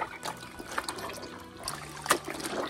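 Tanning solution squeezed out of a soaking deer hide, with wet trickling and dribbling close by, small splashes and a brief louder gush near the end.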